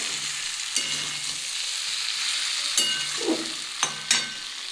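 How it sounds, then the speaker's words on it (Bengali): Soaked cauliflower sizzles steadily in hot oil in a pan as it is stir-fried, with a constant frying hiss and a few sharp clicks and scrapes of the spatula, close up and without voices. "আমি এবার এর মধ্যে ভিজে রাখা ফুলকপিগুলো দিয়ে দেবো দিয়ে এটা দিয়েও ভালো করে কষিয়ে দেবো"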